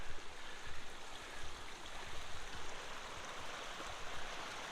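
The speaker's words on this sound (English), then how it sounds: "It's just a creek, but it's sure making a lot of noise coming down the mountain." A mountain creek rushes steadily nearby as it comes down the mountain through a forest, a constant broad roar of flowing water with no other sounds standing out.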